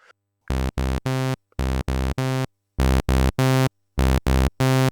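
Bright, buzzy analog synthesizer notes from a Sequential Fourm or vintage Pro-One in four groups of three short tones, separated by silence, loud and clean with a rich harmonic edge.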